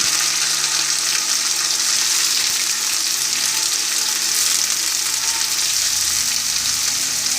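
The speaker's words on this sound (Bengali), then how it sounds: "এবার আমি পেঁয়াজের পেরেস্তা করে নেব। তার জন্য এখানে পেঁয়াজ কুচি করে নিয়েছি" Chopped onions sizzling steadily in hot oil for chicken biryani, a loud, continuous frying hiss close up with no talking.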